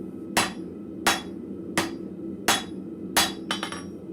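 Blacksmith's hammer striking a hinge plate on an anvil in a forge shop: five sharp, ringing blows at a steady, unhurried pace, then a quick double strike, close and loud with no talk.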